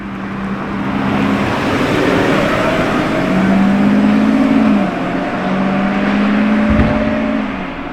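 A Lamborghini Huracán STO's V10 engine drones loudly nearby, its pitch climbing and falling through several rising passes over steady traffic noise.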